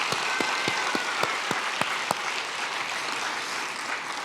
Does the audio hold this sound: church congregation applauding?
yes